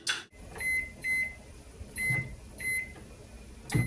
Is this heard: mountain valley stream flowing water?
no